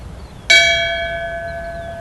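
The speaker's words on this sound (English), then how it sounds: "Would you please ring the bell in memory and in tribute for Thomas Arthur?" A single memorial bell rung in tribute at a community church ceremony: one clear struck tone that rings out and slowly decays, alone in a quiet room.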